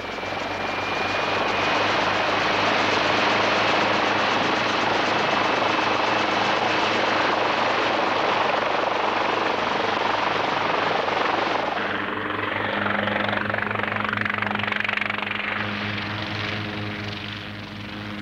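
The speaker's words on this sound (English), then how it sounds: "the helicopter lifts off to make the first reconnaissance" A helicopter lifts off for aerial reconnaissance over the Thera island caldera, its loud steady rotor and engine roar filling the scene throughout, easing slightly near the end as a low droning hum settles in.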